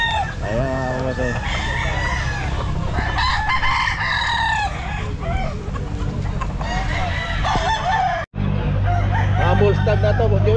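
Red bullstag gamecocks and crossbred roosters crow repeatedly at the Grotto pet market, their calls rising over a constant din of nearby birds, traffic and murmuring voices, with a brief dropout near the end.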